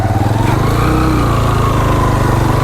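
A motorbike engine drones loud and close on a rocky mountain track to Ratti Gali Lake in Neelum Valley, Azad Kashmir, holding a steady, throbbing idle-to-low-rev hum throughout with no voices.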